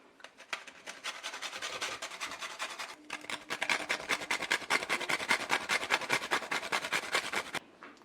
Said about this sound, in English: We're going to grate in some of that nutmeg.